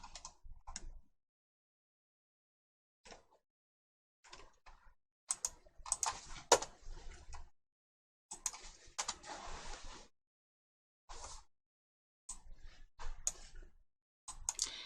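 Typing on a computer keyboard into a browser search box, with bursts of close key clicks separated by short silent gaps and no voices.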